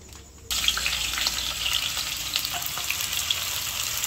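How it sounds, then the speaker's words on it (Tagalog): Siomai drop into hot oil in a pan and burst into a loud, steady sizzle that starts abruptly and keeps crackling without pause. "Si RJ po yung magluluto po ng siomay. Ipiprito po niya."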